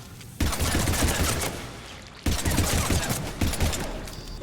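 Heavy automatic gunfire in the video game Mass Effect 3, two long rattling bursts split by a brief gap, loud and close with a third burst starting near the end.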